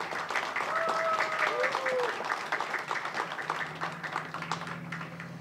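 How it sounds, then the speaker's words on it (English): Outdoor crowd at a waterfront summer event on a pier applauding sponsors, steady clapping from many people that fades slightly toward the end, with a voice calling out over it. "I just want a round of applause for all of our sponsors"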